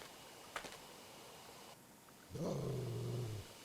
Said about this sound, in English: I hear a low growl from somewhere.